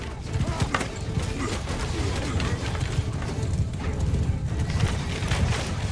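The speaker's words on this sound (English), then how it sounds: "Hey, look at all the horses." Many horses galloping in a Mount and Blade II: Bannerlord battle, a dense continuous drumming of hooves with scattered clatter, loud and close throughout.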